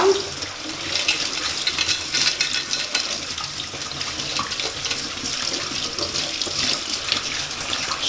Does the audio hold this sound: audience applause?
no